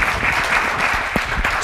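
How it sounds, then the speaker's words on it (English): A conference audience applauds a panel on rumors and disinformation, giving a loud, dense burst of clapping that fills the whole short moment without talk. "And a big round of applause for the panel."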